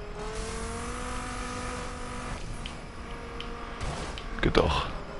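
A rear-wheel-drive car accelerating in the racing game The Crew, its engine droning with a steady rising tone, followed by a brief louder burst near the end, with a voice talking over it.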